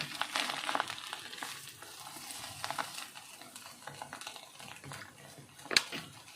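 Cabbage sizzling and crackling as it is stir-fried in a hot pan with scraping and stirring, steady and close, with a sharper clank near the end.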